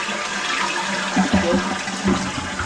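A toilet flushes close by after a new fill valve and flapper are fitted, with a gurgling rush of water and a few sharp pulses as the bowl drains.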